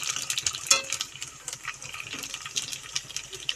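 Fuchka puris puffing up in hot oil give a steady, close crackling sizzle with small pops throughout; no one speaks.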